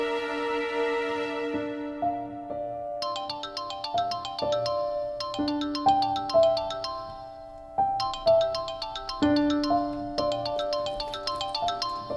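A melodic phone ringtone plays on and off for several seconds during an outgoing call, a steady repeating tune that is moderately loud, with no voices.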